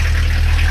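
A small pony motor, the starting engine for a larger engine, runs at a steady idle, a loud close low rumble with an even throb and no voices.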